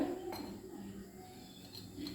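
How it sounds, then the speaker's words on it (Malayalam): A cooking pot, already greased with ghee for vermicelli payasam, is set down on a lit gas stove, giving a few quiet metallic clinks and knocks over a soft background hiss. "അപ്പം ഗ്യാസ് കത്തിക്കാം, പാത്രം വയ്ക്കാം."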